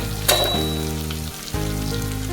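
Red chili powder and spices tipped into a hot pan of oil for a chickpea curry, giving a loud, steady close sizzle and crackle with a brief sharp burst at the start.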